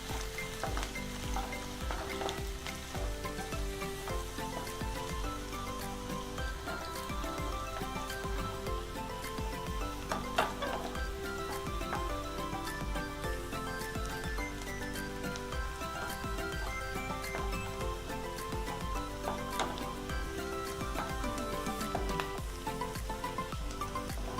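Garlic frying in hot oil in a pan while orange peel pickle is made, a loud continuous crackling sizzle with scattered pops and occasional utensil scrapes, steady throughout.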